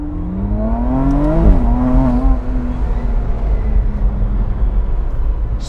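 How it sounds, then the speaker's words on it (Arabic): A 2025 McLaren Artura Spider's turbo engine pulls hard and steady, with rising and falling tones as it climbs through gears, turbos heard loud from inside the cabin with the rear window down. "صوت التيربوهات قاعدين معك جوا السيارة."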